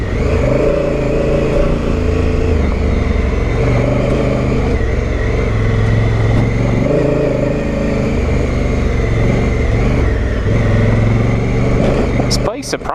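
Honda Africa Twin motorcycle riding an off-road trail, its engine droning steadily and close for the whole stretch with shifting rumble as the bike moves over terrain.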